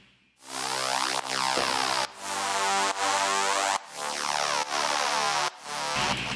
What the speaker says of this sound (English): And then we have our white noise layer that I always have.